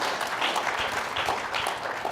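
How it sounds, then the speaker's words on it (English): Audience applause at a Saturday morning event session, a steady, dense wash of many hands clapping together that holds evenly throughout, with no voices heard over it. "give them a round of applause"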